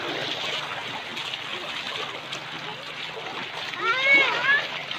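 River water rushes over rocks in a mountain gorge as a steady wash of splashing and gurgling. A child and an adult talk faintly under it near the end.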